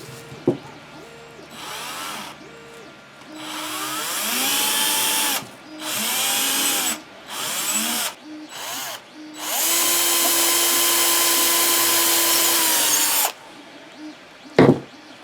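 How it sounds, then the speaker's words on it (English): A power drill bores a hole in a full-size prop flamethrower in bursts. The motor whines up and down through several short runs, then settles into one long steady spin, with a clunk near the end. "I'm going to go ahead and drill a hole for that."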